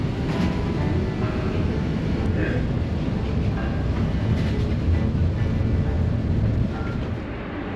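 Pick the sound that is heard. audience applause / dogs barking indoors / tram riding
tram riding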